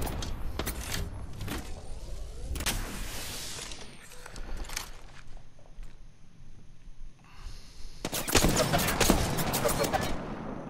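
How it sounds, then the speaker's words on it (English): Video game gunfire crackles in scattered sharp bursts, some near and loud, others fainter, with a heavy volley near the end. "The enemies are shooting at me."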